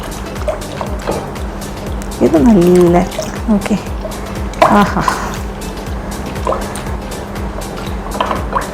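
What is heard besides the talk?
pouring a cup of water into curd for buttermilk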